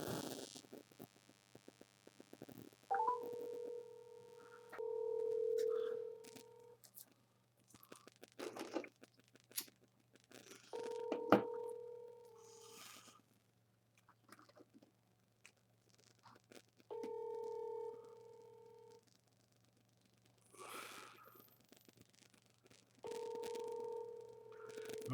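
Repeated telephone ring tones from a call to 911 that goes unanswered, four spaced bursts over a faint hum, with scattered handling clicks and thumps between them.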